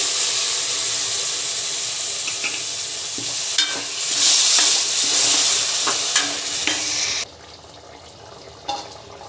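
Tamarind juice is poured into a simmering egg and prawn curry, giving a bubbling, sizzling hiss with a swell of liquid splashing and a few utensil knocks before the sound drops off abruptly.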